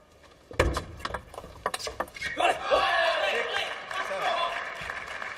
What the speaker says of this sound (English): A few jayos from the crowd, from the Chinese fans